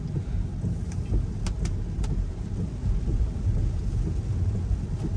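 Heavy rain drums steadily on a Tesla driving on Full Self-Driving beta 9.2, with a low continuous road and cabin rumble and a few sharp ticks, no talk.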